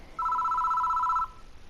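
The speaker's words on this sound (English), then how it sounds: "The phone begins to ring." A phone rings in the Death Mark horror video game, one steady electronic ring tone lasting about a second, clear and alone over a faint background hum.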